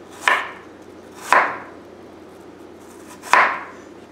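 Three separate knife chops slicing apples thin on a cutting board for an apple pie, spaced about a second or two apart, crisp and close, with no talk.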